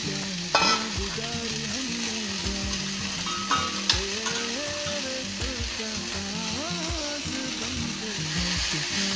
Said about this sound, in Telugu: ఇప్పుడు అదే ప్యాన్లో ఇంకా ఆయిల్ ఏం వేసుకోకుండా అందులోనే ఆరబెట్టుకున్న ఆకు వేసేసుకోవాలి.